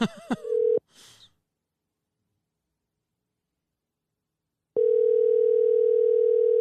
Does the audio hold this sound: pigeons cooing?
no